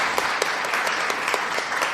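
A crowd at a poetry open mic claps steadily and fairly loud for two seconds, with dense overlapping hand claps and a few sharper ones standing out.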